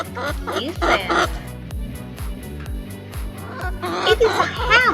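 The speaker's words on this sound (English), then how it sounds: "It is a hen." A hen clucking in a farmyard setting, repeated short clucks and squawks in an irregular rhythm, loud and close, over a steady rhythmic background music bed.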